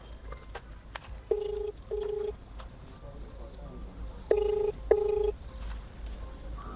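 A phone call rings unanswered, heard as a quiet ringback tone in two double-pulse rings separated by a pause, with faint background noise around it.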